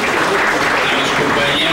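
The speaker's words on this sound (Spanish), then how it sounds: "a quien pido un fuerte aplauso" Audience applauds a former president at a formal ceremony, a dense, steady burst of clapping from a large crowd that fills the whole moment at even loudness.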